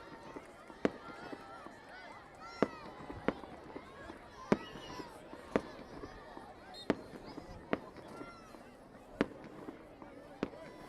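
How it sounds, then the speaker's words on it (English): Distant fireworks going off behind student housing during a college soccer match, sharp faint pops at irregular intervals of about a second or two under a low crowd and commentary murmur. "Got some fireworks going off in the background behind some of the student housing here at San Diego State."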